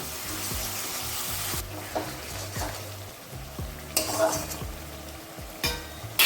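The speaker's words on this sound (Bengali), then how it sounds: "আর যে বাটিতে ছিল ওটা ধুয়ে আমি একটু সামান্য জল দিয়ে দিচ্ছি" Crab curry masala sizzling in a pan as a splash of water goes in, a steady fry hiss with stirring scrapes and a few sharper bursts as the liquid hits the hot spices, close and without talk.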